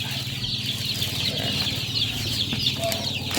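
A small flock of hungry pet chicks peeping and chirping continuously close by, a dense overlapping chatter with occasional faint rustling.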